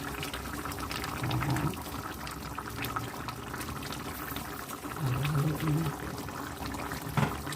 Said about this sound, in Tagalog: So, pwede na natin ilagay ang ating tomato sauce